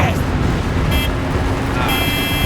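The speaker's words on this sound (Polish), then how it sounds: "Mamy klakson." A car horn toots in the video game Battlefield 4, short honks sounding over dense engine and vehicle rumble in the game, fairly loud and close.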